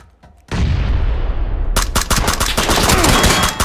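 Loud, close bursts of rapid automatic gunfire in the battle royale game PUBG, starting with a heavy blast and then a fast, continuous stream of cracking shots.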